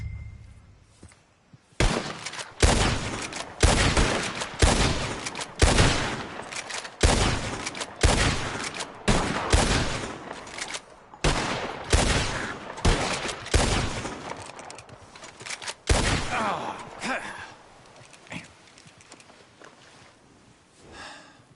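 Gunshots ring out at a shooting contest in Red Dead Redemption 2, a steady string of sharp, loud reports fired one after another at a brisk, fairly even rhythm, thinning out toward the end.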